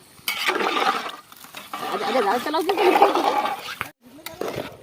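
Water gushes and splashes steadily into a large pot of chicken biryani cooking outdoors in a village, a loud continuous pour with a short pause near the end and voices talking over it.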